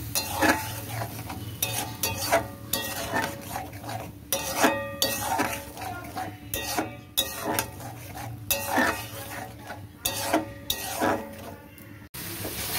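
A spoon scrapes and clatters steadily in a metal pan while green peas and spices fry, with a soft sizzle underneath and repeated stirring strokes; no talking.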